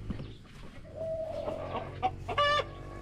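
Hen clucking among her newly hatched chicks, close by, with soft scattered clucks building to a brighter burst of high cheeping and calls near the end.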